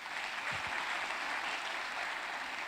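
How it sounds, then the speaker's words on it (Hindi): Audience applause at a business success-day event in Mumbai, a steady wash of many hands clapping throughout, fairly distant and soft in level, with a brief voice near the start. "एक जोरदार ताली"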